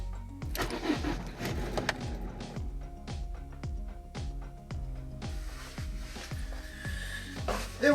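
A Citroën C3 1.4 HDI diesel engine cranks over with a rapid regular chug of starter pulses, about a dozen loud close strokes, then catches and begins running at the end.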